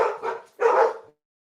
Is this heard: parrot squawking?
no